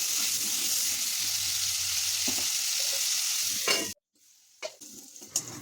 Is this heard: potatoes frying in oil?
yes